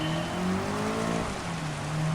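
Rain hisses steadily in a Gran Turismo 7 wet-track race, mixed with a droning car engine whose pitch rises and falls as it corners.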